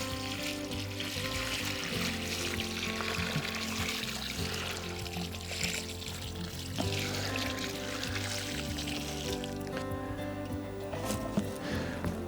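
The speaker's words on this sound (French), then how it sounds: "je vide le contenant d'eau au pied de celui-ci" Water emptied from a container at the base of a newly planted Lily de Gerlache rose bush, a soft continuous trickle and splash heard close and quiet.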